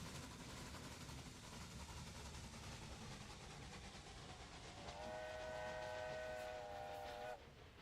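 Trains rumble steadily through a video game with continuous rail noise and clatter. Midway a multi-tone train horn sounds, sustained for a couple of seconds before it cuts off, clear and fairly close.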